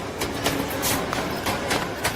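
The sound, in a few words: local train arriving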